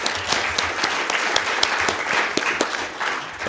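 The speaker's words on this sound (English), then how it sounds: "a big round of applause for all of our panelists here" Sustained applause from an audience for a healthcare panel at a conference, a dense steady patter of clapping hands lasting throughout without pause.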